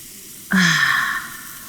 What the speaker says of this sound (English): we're adding in the salsa now